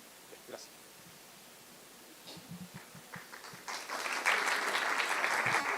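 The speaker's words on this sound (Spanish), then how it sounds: "gracias por los aplausos" An audience at an academic conference on geography education at Universidad Alberto Hurtado greets the next presenter, with scattered claps and rustling that swell into sustained applause filling the room.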